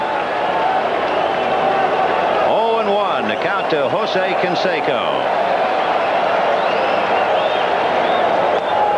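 Crowd noise fills a baseball stadium during the 1988 World Series, Oakland Athletics at Los Angeles Dodgers, as fans roar behind the pitcher; a steady loud roar with a broadcaster's voice talking over it partway through.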